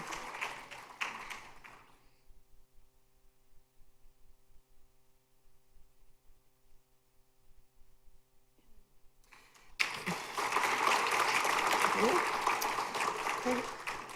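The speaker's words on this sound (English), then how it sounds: "So let's give Sophia Khan a big round of applause" Audience applause at a high school senior scholarship awards ceremony, a steady wash of clapping that starts after a long quiet gap and continues loud to the end, with brief talk at the start.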